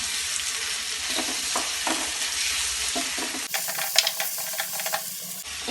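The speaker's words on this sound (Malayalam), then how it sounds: "ഇനി നമുക്ക് നല്ലപോലെ ഇളക്കി കൊടുക്കാം" Fish roe thoran sizzles in a pan while being stirred, a steady close hiss of frying broken by soft scraping stir strokes, with no talking.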